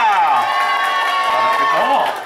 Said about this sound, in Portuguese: Palmas pra Agatha!